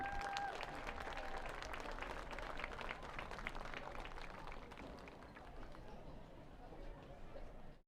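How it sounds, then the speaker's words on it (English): A crowd applauds hall of fame inductees at a varsity high school football game, West Henderson at Franklin, with dense, sustained clapping and cheering that holds steady for several seconds and then cuts off. "Let's give all of our inductees another well-deserved round of applause."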